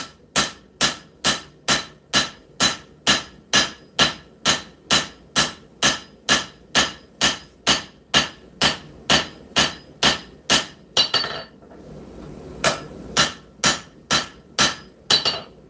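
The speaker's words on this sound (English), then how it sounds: "Making sure we work those bevels up to the spine." Steady, rhythmic hammer blows ring out on hot steel as a blade's bevels are planished toward the spine during forging, about two strikes per second with a brief pause before the ringing strikes resume, loud and close with no talking.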